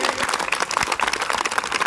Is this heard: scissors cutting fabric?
no